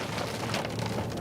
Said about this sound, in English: I know you're already experiencing hail right now